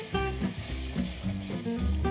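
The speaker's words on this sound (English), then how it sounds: "as the Marsala cooks down, and I'm gonna stir this gently all the way around" Marsala wine cooks down in a pan, a close, steady sizzle and bubbling under bright tonal background music, with gentle stirring and no voices.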